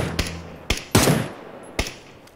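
Gunfire in the battle royale game PUBG: a few sharp shots cracking out at uneven intervals, loud and close, with quieter background noise between them and no talking.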